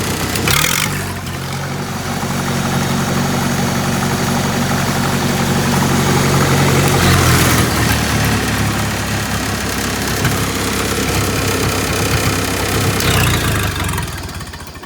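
A Lincoln SA200 welder's engine fitted with two mufflers runs steadily nearby. A low, rumbling drone holds for about fifteen seconds with slight rises and no talking.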